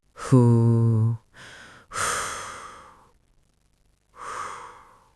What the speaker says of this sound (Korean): 거친 숨소리가 동굴안을 울렸다.